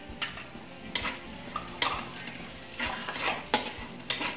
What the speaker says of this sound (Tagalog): Saute lang natin.